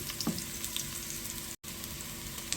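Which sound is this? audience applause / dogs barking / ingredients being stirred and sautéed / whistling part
ingredients being stirred and sautéed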